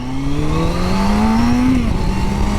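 Close and loud, a motorcycle engine rises steadily in pitch under throttle, then drops sharply as it downshifts and settles at a lower rev, with no talking.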